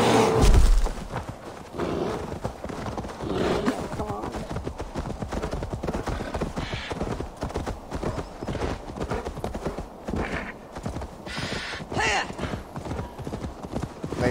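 Horse hooves clip-clopping in Assassin's Creed Valhalla gameplay, a steady galloping rhythm of hoofbeats with occasional whinnies, mixed with game sounds and people talking throughout.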